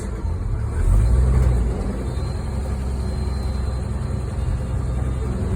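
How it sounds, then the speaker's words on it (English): A truck rolls into a shop in Deerfield Township, Michigan, its engine a steady close rumble that swells briefly near the start, then settles into an even idle-like drone. "This is the first time I've ever pulled this truck or any vehicle into this shop"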